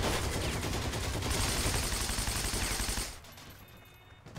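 Rapid automatic gunfire in the World War II shooter Heroes & Generals, a dense sustained burst of shots lasting about three seconds, then dropping away to quieter game ambience with a faint shot near the end.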